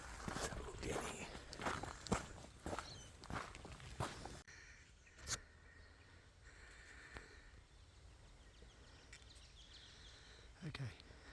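Footsteps crunch along outdoors at an abandoned quarry at a steady pace, louder at first then softer, with a few sharp knocks and faint background noise.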